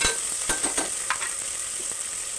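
Potatoes and tomatoes sizzle in a pan for moong dal khichdi, a soft steady frying hiss with a few quick scraping stirs near the start, faint and close.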